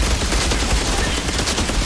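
Dense, continuous gunfire in the video game Outriders, a loud wall of overlapping rapid shots and blasts with no break, filling the whole moment.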